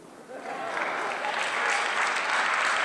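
Applause from a comedy tribute concert audience, swelling quickly after a quiet start into dense, loud, sustained clapping from a large crowd.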